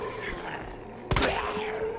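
A single sharp gunshot goes off in the Resident Evil 2 Remake video game. It is a short, loud crack over a low, murky game background, and nobody talks.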